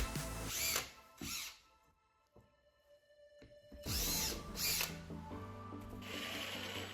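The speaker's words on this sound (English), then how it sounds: "go in with your drill and screw them in" A power drill whirs in several bursts, driving screws into wood through pilot holes with brief pauses between runs, close and loud.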